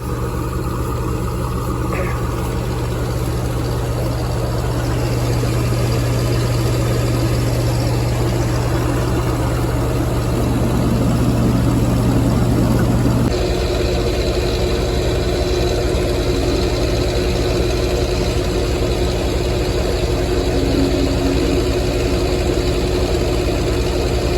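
A New Holland 358 mix mill runs steadily while mixing a ton of feed of oats and supplement, a continuous mechanical drone with a deep low hum that shifts pitch partway through, loud and close.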